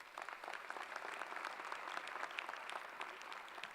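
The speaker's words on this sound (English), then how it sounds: "Please give them all a round of applause." A convocation audience at a Founders Day ceremony applauds the university board regents with a steady, moderately distant patter of many hands that holds throughout.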